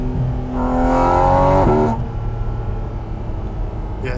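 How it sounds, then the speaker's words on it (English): A Porsche GT4 RS Weissach pulls at full throttle with the window up, its induction note climbing loud and close. After a quick upshift it drops to a lower, steadier drone. "let me do another pull with the window up so you can hear just the induction noise"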